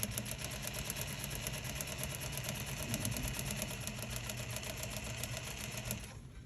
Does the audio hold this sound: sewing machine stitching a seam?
yes